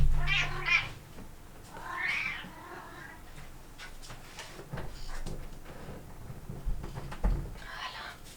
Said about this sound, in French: Elle miaule de plus en plus fort et c'est pour avoir à manger.